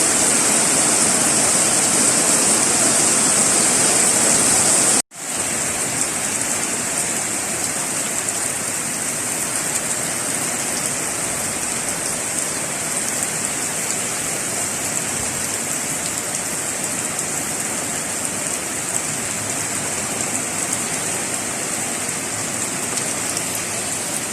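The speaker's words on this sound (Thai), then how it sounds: "ฝนตกค่ะอันนี้ที่ฝนตกค่ะ" Steady heavy rain pours down outside a home, a dense, loud, continuous hiss with a momentary cut about five seconds in before the downpour resumes unchanged, with no voices.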